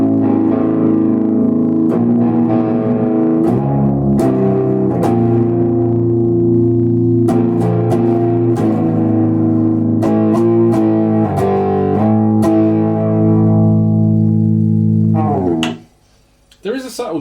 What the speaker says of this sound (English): switch that over again to the TS808 channel now and see if there's much of a